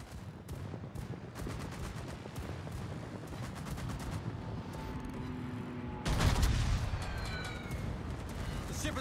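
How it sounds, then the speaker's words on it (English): Anti-aircraft guns on a tier 9 battleship, the USS Minnesota in World of Warships, rattle in rapid bursts of dense, continuous fire that swell into a heavier roar, with voices speaking over the barrage. "Anti-aircraft gun crews are on full alert."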